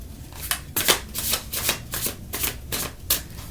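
Tarot cards are shuffled by hand in a series of crisp riffling bursts, about eight quick papery flutters in an uneven rhythm, close and clear with no talking.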